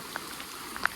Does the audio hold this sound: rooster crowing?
no